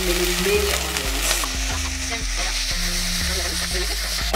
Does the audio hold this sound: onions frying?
yes